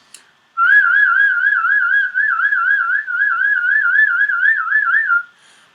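A clear, steady whistled tone wavering quickly up and down in a rapid trill, whistling a lip slur exercise, held for several seconds with one short break.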